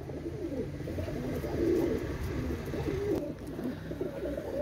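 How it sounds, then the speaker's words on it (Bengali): A pair of golden pigeons coos softly and repeatedly, the low throaty calls rolling over one another close by with no talk. "এইগুলো দেখেন একজোড়া গোল্ডেন কবুতর"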